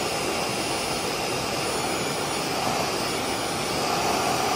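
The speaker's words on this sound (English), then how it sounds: "I can hear the suction is better." A Tineco S7 Pro cordless vacuum cleaner runs at steady suction, a continuous loud broadband whoosh and roar with no breaks.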